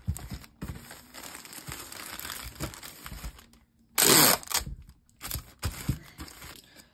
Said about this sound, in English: And then I'll tape it nice and snug.